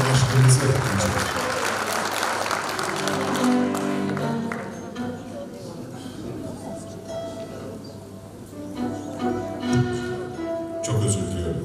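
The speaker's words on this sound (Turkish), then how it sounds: "alkışlarınızla sahneye davet etmek istiyorum" An audience applauds as a singer is invited onto the stage at a live music event, a burst of clapping that fades while a speaker talks and instruments sound softly.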